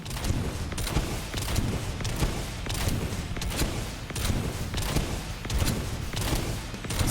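Sustained gunfire in the video game Monster of the Deep, a dense run of rapid shots pulsing in roughly regular bursts, loud and continuous throughout with no pause.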